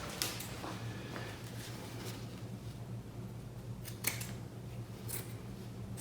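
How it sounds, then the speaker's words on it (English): Scissors cutting through OrthoTape cast padding with soft, close snips at intervals over a low steady hum, and no talking. "So what I'm gonna do is cut that."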